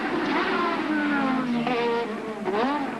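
A high-revving Formula One engine at the 1987 Detroit Grand Prix whines loudly, its pitch rising and falling as it accelerates and shifts, close and dominant, with something in the engine ruptured.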